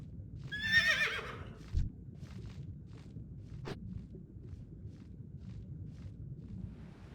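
A horse in the video game WoW Classic gives one bright, wavering whinny near the start, followed by a few soft hoof clip-clops and light footsteps over a quiet ambient hum.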